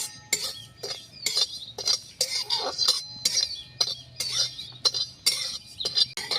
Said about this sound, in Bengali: শুকনো খোলায় ভাজা ভাজা করব